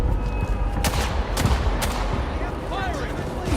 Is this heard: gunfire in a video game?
yes